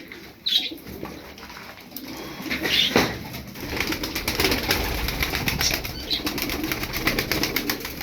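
Performing pigeons flap their wings in soft, close bursts, with occasional muffled cooing over a steady, low background rustle.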